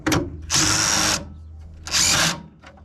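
A cordless power tool with a deep 10mm socket spins off the battery terminal nut on a 2005 Acura RSX. There are two short, loud whirring bursts with a quiet gap between them.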